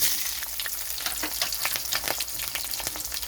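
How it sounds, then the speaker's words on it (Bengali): Green chillies and nigella seeds fry in hot mustard oil in a kadai, giving a loud, steady sizzle with crackling pops throughout and no talking. "কড়াইতে সর্ষের তেল দিয়েছি সর্ষের তেলটা গরম হয়ে গেছে এখানে আমি দিয়ে দিচ্ছি কাঁচা লঙ্কা কালো জিরা"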